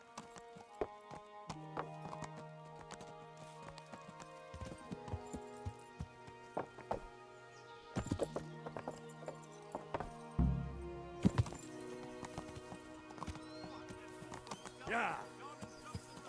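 Hooves clip-clop intermittently on a horse in the video game Kingdom Come Deliverance 2, mixed with thuds and a brief whinny amid game music and spoken voices.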